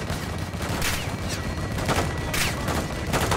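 Call of Duty Modern Warfare 2 campaign gun run pounds out sustained heavy gunfire, a dense, loud barrage with repeated rattling bursts layered over rumbling battle noise.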